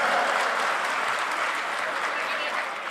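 Loud, sustained applause from an audience welcoming a member of parliament at a birth centenary ceremony, a steady dense clapping that continues throughout without a break.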